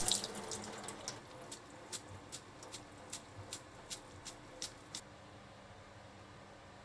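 Blanched nanohana draining in a sink, a quiet run of water with a steady series of small drips and taps spaced about every half second, close and soft, with no voices.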